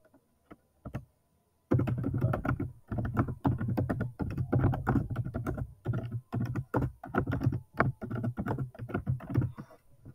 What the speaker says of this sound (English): I'll type it here